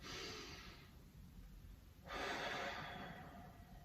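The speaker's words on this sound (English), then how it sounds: "2 more long deep breaths." Two long, deep breaths during a home Pilates stretch: a slow airy breath fades out over the first second, and after a quiet pause a louder, fuller breath swells and slowly tails off. Close, alone, with no talking.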